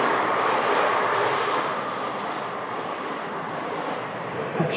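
Steady broadband rumble from inside a moving train in the early morning, continuous and fairly loud with no speech, a bicycle parked aboard.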